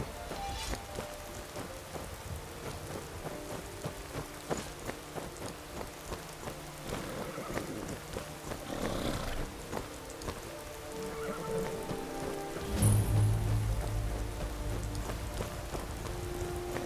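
Steady rain falls in a farm area in the video game Skyrim, a continuous hiss of drops that runs the whole way, with a deeper rumble like thunder swelling near the end.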